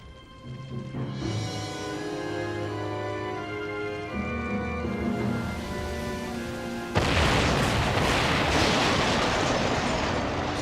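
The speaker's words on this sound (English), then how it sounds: "It's kind of a small explosion for the fire." A small explosion from a fire scene in Batman: The Animated Series erupts as a sudden loud burst of noise, cutting in after several seconds of sustained tonal music and rumbling.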